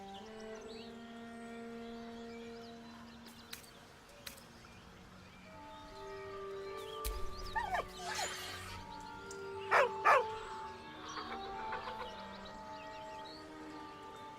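A dog whines and yips softly beside a corpse in the video game Baldur's Gate 3, a few brief whimpers rising from faint ambient game music and background sound.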